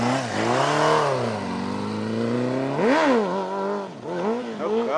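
A motorcycle engine revs up and down repeatedly nearby, the pitch rising and falling in loud throttle bursts.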